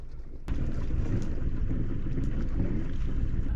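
A boat sails into the harbour at Ny-Ålesund, Svalbard, with a steady low engine rumble and wind rushing over the microphone, rising abruptly after half a second and holding loud and constant.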